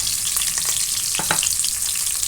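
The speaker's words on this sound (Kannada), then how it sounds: "ಇದು ಸ್ವಲ್ಪ ಕೆಂಪಾಗ್ತಿದ್ದಾಗ ಶೇಂಗಾ ಬೀಜ ಹಾಕ್ತಾಯಿದ್ದೀನಿ." Peanuts frying in a pan of oil with lentil powder crackle and sizzle steadily up close, with a few sharper pops and spatters standing out above the continuous hiss.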